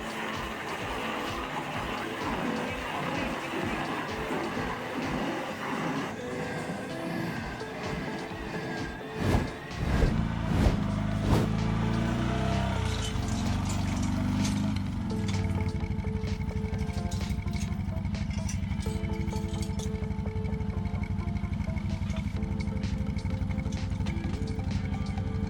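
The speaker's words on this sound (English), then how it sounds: "These are hydraulically powered attachments designed for excavators specifically to grind stumps into chips." Excavator-mounted hydraulic stump grinder chewing logs into chips, with a rattling engine drone, then heavy clattering thumps as the cutter bites, followed by a steady loud mechanical grind.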